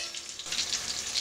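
Fish frying in hot oil in a covered pan gives a steady, close sizzle with faint crackle, growing a little louder and brighter partway through; no voices.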